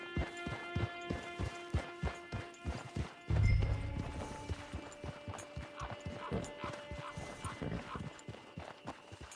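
Horse hooves clip-clop in a steady, even rhythm close by as a horse is led through a camp, with a brief thud partway through and no voices.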